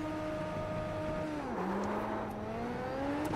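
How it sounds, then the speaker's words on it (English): Race car in a racing simulator accelerating with wheel spin, a steady loud engine whine rising in pitch, dipping at a gear change and climbing again, no talk. "I got a lot more wheel spin there"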